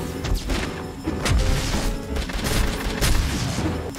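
Grenades burst in the Blade Assault demo as a dense, continuous barrage of booms, crashes and smashes, loud and close, with heavy low thuds repeating every second or so.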